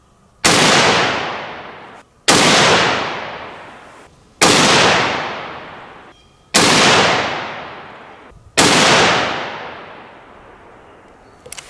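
Five loud .30-30 rifle shots at an outdoor range, fired with handloaded Hornady 150gr round-nose bullets, each a sharp crack with a long fading echo, spaced about two seconds apart.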